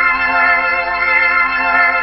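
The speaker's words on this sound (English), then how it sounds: "a chord underneath, which has got vibrato on, and it's going through the Leslie" A 1969-era Hammond M102 organ holds a sustained chord with vibrato, played through a Leslie speaker, giving a steady, rich tone with gentle pulsing swirl throughout.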